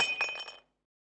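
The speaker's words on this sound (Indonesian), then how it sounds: "kamu dengan ada suara pecahan kaca dalam dapur ini" Glass shatters in a kitchen as a story sound effect, a single bright crash with tinkling shards that dies away quickly into silence.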